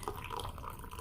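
Hot Turkish tea pours into a glass in a soft, continuous trickle, quiet and close, with no talking.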